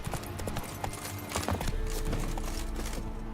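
The horse Roach gallops in The Witcher 3, rapid rhythmic hoofbeats clattering close and steady over a soft game background.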